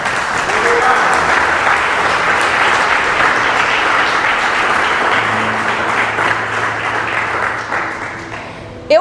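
Church congregation applauding during a service, dense continuous clapping from a large crowd that holds steady for several seconds before tapering off, with faint voices mixed in.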